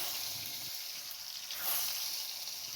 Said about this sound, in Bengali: এবার সেই তেলেই শাকগুলো ভেজে নিচ্ছি